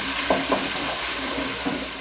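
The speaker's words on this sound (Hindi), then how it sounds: "यहाँ पे हम इसमें जो है अदरक लहसुन का पेस्ट भी ऐड कर देंगे। और इसको भी हमने तकरीबन 2 से 3 मिनट के लिए अच्छे से पका लेंगे।" Ginger-garlic paste cooks in a pan for a black-eyed bean curry, producing a steady, moderate sizzle with a couple of soft stirring taps.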